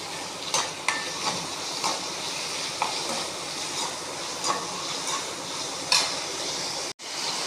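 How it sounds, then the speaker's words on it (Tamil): Onions, tomatoes and curry leaves sautéing in hot oil for a Tamil side dish, a steady close sizzle with occasional stirring scrapes and clicks throughout, no talking. "வெங்காயத்தை நல்லா வதக்கிடலாம்"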